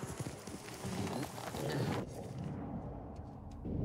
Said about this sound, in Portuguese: Você é um bom cavalo, Nobu.